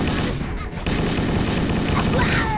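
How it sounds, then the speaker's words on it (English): Hunters fire powerful guns in Halo: Combat Evolved, a dense, loud barrage of sustained gunfire and booms with no break across the whole stretch. "They can shoot me with their powerful guns."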